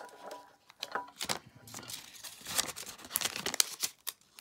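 Adhesive tape being pulled from the roll and torn, a string of crinkly rips and crackles at close range, fairly quiet and irregular.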